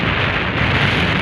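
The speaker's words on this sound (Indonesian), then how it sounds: "gak lama hujan lagi." Steady rain falls during a stop on a motorcycle ride with a Yamaha Aerox 155 scooter, a dense even hiss that stays loud and constant through the whole short stretch, with no voices.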